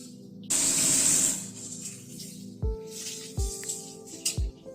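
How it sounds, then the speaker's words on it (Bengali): Potato and pointed gourd pieces hit hot oil in a pan with a loud, brief hissing sizzle, then settle into quieter frying as three or four ringing metal knocks follow. "আলু পটলটাকে একটুখানি ভেজে নিচ্ছি"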